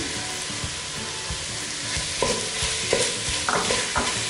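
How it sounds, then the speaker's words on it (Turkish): Tomatoes and tomato paste sautéing in a pan fill the sound with a steady close sizzle, while a spoon stirs with repeated scrapes and clicks against the pan. "Domatesler pişene kadar yine aynı şekilde kavurmaya devam ediyorum."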